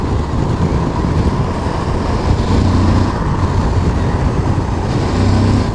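Steady, loud broadband wind roar buffeting a rider on a Suzuki V-Strom 1050DE adventure motorcycle at speed, with low engine drone underneath, continuous throughout.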